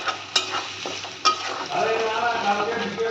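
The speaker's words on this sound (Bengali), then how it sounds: "এবারে দিয়ে দেবো আমি ওই পেঁয়াজের পেস্টটাকে। এটা হালকা একটু নেড়ে ছেড়ে" Onion paste sizzles steadily as it is stirred in a hot frying pan, with a couple of sharp utensil knocks against the pan near the start, close and clear.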